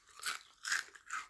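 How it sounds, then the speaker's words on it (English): A corn tortilla chip topped with spreadable pub cheese is crunched three times in quick succession, each bite a crisp, close burst with no talking. "I hope you can hear that crunching going on"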